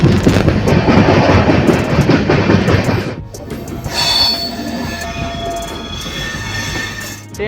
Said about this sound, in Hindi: उस साइड से निकल रही अपनी Jaynagar Patna intercity express train.